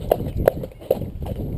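A ridden horse trots with close, distinct hoof strikes: three sharp clip-clops at an even pace, then a softer fourth over low rumbling movement.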